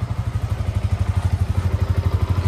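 A motorcycle engine idles close by with a steady, even, low throbbing pulse that runs throughout without revving or a distinct start.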